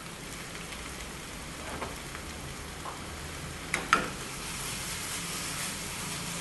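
Mushrooms dropped into a hot pan of oil give a steady, soft sizzle, with a couple of brief sharper crackles and clicks partway through.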